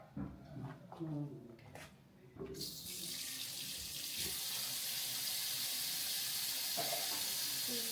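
After a few brief knocks and clatters, water gushes in a loud, steady stream into a cooking pot, filling it continuously until the end.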